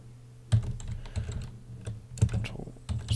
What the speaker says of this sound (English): we'll just type in something to fill in the space